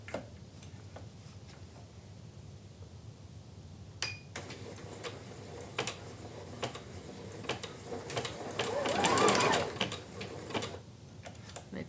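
An embroidery sewing machine stitches a design on fabric for a cloth bag, ticking quickly and steadily at a moderate distance, with a brief louder whirring burst near the end.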